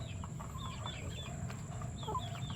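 A broodstag rooster about eight months old clucks and gives soft, scattered calls against a steady background hum, moderately distant and fairly quiet, with no one talking.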